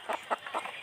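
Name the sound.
chickens clucking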